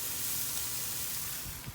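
Argentinian asado meat sizzles on the grill in a steady, loud, close hiss of frying fat that runs without a break and has no voices over it.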